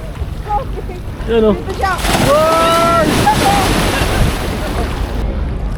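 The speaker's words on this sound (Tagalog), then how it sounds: "ang lakas ng alon" Strong ocean waves slap against a tour boat off El Nido, Palawan, with wind buffeting and water rushing around the hull under loud, excited talk.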